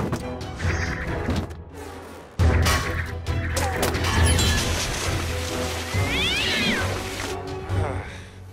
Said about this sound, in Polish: Patrzcie, mruczek siedzi w tunelu!